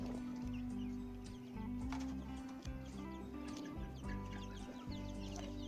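Hens in a backyard coop cluck and squawk in short, uneven bursts, fairly close, over a continuous low hum and scattered scratching noises.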